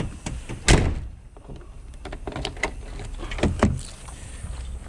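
The faulty rear door of a UK Class 2 HGV bakery delivery truck is worked by hand, giving a sharp close thud early on, then a string of clunks, rattles and scrapes.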